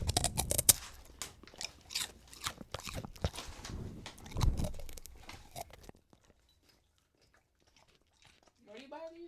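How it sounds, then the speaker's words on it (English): Loud, close crunching and chewing of crunchy green beans in quick irregular bites, followed by a quiet pause and a brief voice. "Crunchy green beans."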